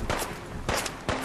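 Gunfire in the game Fallout 4, heard as three separate sharp cracks spaced roughly half a second apart. They are moderately loud and fairly distant-sounding, with no speech between them.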